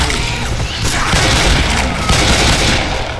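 Pistol gunfire in Left 4 Dead 2 on the Dark Carnival campaign: dense, loud, continuous shooting and crashing noise with rapid overlapping shots and chaotic combat sounds throughout.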